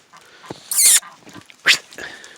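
A few short, high-pitched squeals and whines from a pregnant dog, close by, in brief separate bursts.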